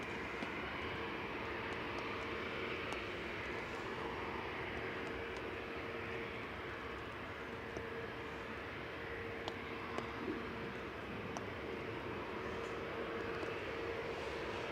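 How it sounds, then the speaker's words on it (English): Planes taking off and landing at Manchester Airport, a sustained distant jet roar with a steady engine tone running throughout, no talk over it. "while the planes are making the noise"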